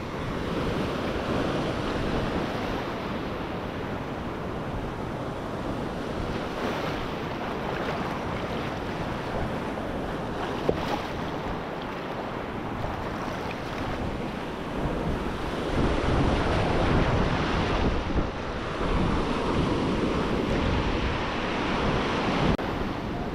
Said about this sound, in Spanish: el tema del huracán Milton, aquí ya lo veis, es mucho oleaje